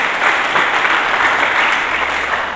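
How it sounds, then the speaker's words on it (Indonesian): A church congregation at an Indonesian sermon breaks into loud, dense applause, many hands clapping in a continuous roar that holds steady for a couple of seconds before easing slightly. "Berikan tepuk tangan dulu bagi Yesus Kristus"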